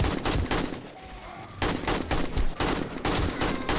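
Rapid bursts of AK rifle fire in the video game 7 Days to Die, played on insane difficulty during a nightmare horde night, loud and close, with a brief lull mid-clip before the shooting resumes.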